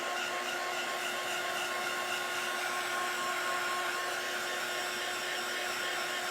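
A hair dryer blows continuously on wet paint on a handmade DIY bunny, giving a steady whining hum with a high tonal whine, moderately close and uninterrupted, with no talking.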